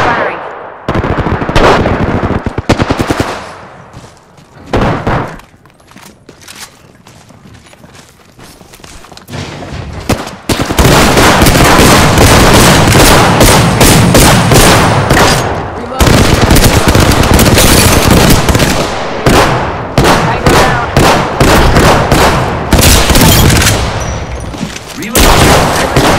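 Loud bursts of automatic gunfire and rapid shots in the video game Apex Legends, dense fusillades separated by brief lulls, with in-game voices briefly heard between the volleys.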